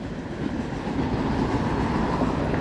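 A Toronto subway train rolls past without slowing, a steady loud rumble and roar of wheels on track that fills the whole stretch with no pauses.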